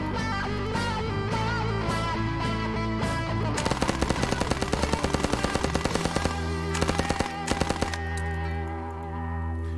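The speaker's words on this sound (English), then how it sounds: "Now this is the Carl Gustaf" Carl Gustaf M45 submachine gun firing in ARMA 3, loud rapid bursts of automatic fire, a long rattling string followed by shorter bursts, over steady game background music.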